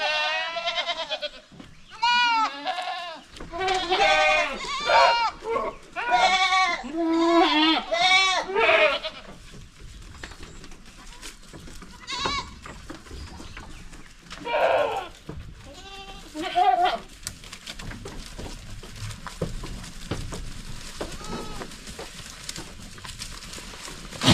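Several goats bleat loudly and repeatedly, close by, their cries overlapping at first and then becoming sparser over a quieter background.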